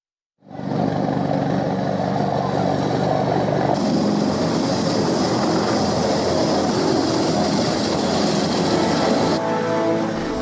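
Indonesian TNI military helicopter evacuating landslide victims in Latimojong, Luwu, South Sulawesi, its rotor and turbine roar loud and steady at close range throughout, with no speech.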